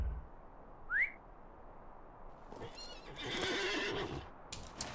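A horse in the Lord of the Rings Online game gives a short rising whinny near the start, followed by rhythmic clip-clopping hooves as it is ridden, with a brief whistle-like tone over fairly quiet ambience.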